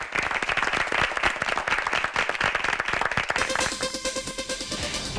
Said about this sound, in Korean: 지금까지 1, 2라운드 토론을 펼쳐준 두 팀에게 박수 한번 부탁드리겠습니다